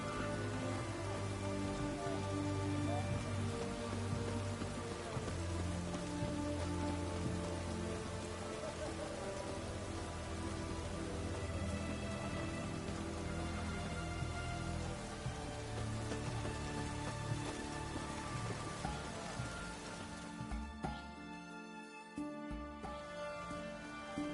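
Steady rain falls in the video game The Witcher 3, a dense, continuous patter of drops on surfaces that stays even throughout and briefly thins near the end.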